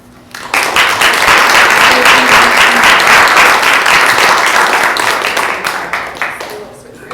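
An audience claps loudly at a panel event on Indigenous consent. The applause is dense and sustained for about six seconds, then tapers off near the end.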